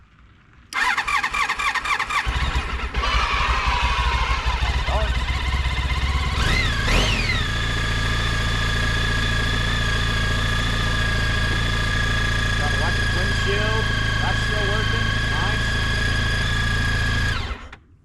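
An old sport touring motorcycle cranks briefly, catches and settles into a loud, steady idle close by, with a few throttle blips before it runs evenly and cuts off at the end.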